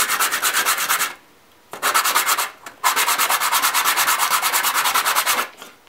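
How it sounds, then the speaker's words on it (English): Sandpaper is rubbed briskly inside a soda bottle cap in rapid back-and-forth strokes, three loud close bursts separated by brief pauses, with no voices. "Just kind of just get a little piece of sandpaper."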